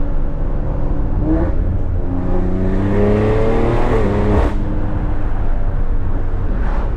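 A catless, tuned X3M engine drones loudly and continuously while driving, its pitch shifting with the revs over heavy road and wind noise.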